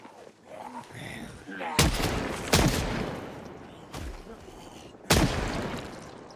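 Shotgun blasts in a video game, four loud booming shots spaced about a second apart, each with a sharp attack and a rumbling decay, layered over steady game noise.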